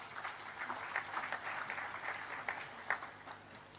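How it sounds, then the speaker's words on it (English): Applause from an audience at the opening ceremony of a counter-terrorism summit, a soft, steady wash of many hands clapping with a few sharper claps standing out, heard from a distance and fairly quiet. "Please, let's give a round of applause to the media"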